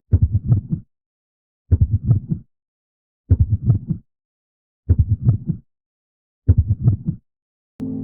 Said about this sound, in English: even beyond the third game in FNaF 6, we are able to hear Afton's heartbeat